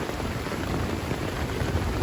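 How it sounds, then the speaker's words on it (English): Heavy rain drums steadily on a tent during a thunderstorm, a dense, close, unbroken hiss with low rumbling thunder beneath it. "Can you hear that thunder?"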